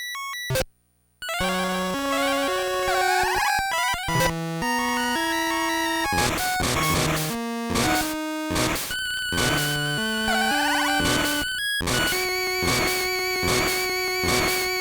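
Game Boy DuckTales theme in shrill, warbling chiptune, with square-wave melody lines over a stepping bass that stop briefly near the start, then carry on loud and steady.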